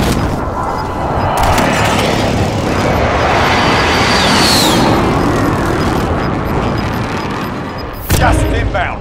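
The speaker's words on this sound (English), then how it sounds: "Enemy precision airstrike. Take cover." Precision airstrike explosions in the video game Warzone, a sustained loud rumble of overlapping blasts that swells and fades over several seconds, ending in a sharp burst, with game voice callouts over it.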